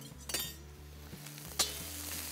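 Cooked rice being stirred through capsicum in a pan over low gas, with soft scraping and steady low sizzling plus a few light clinks of a spoon against the metal.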